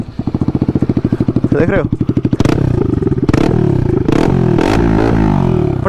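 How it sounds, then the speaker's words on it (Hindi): A damaged, seized RS motorcycle engine idling in neutral with an oil leak, chugging rhythmically and then cracking off a run of loud, sharp backfire pops up close, while someone talks over it. "पटाके मार रही है गाइस बाइक।"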